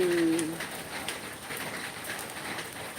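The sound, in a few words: gentle drizzling rain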